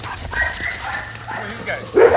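Several dogs on a professional dog walk in Montreal give short barks and yips over steady street background, with one louder bark at the end.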